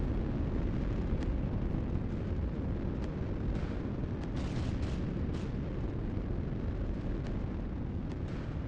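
Ship weapons firing in the space fleet battle game Nebulous Fleet Command, size 2 guns, heard as a dense, continuous roar of booming blasts with brief sharper bursts throughout.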